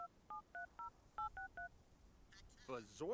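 A phone keypad in The Sims 3 beeps through a quick series of about eight dual-tone dialing presses in an uneven rhythm, clear and close, followed by a short burst of in-game Simlish chatter.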